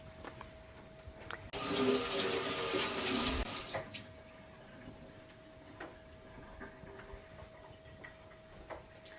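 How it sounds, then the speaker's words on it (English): A water tap runs for about two seconds as hands are washed in a home care setting, a steady close splashing rush that stops abruptly, followed by quiet room tone with faint ticks. "I'm to wash my hands first."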